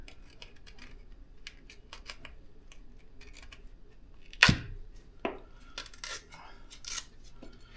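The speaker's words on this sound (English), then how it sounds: "We're going to cut this diaphragm off here." A diaphragm is cut off a Cummins PT fuel pump during a rebuild in a quiet workshop, with one sharp loud snip and a few lighter clicks and taps afterward.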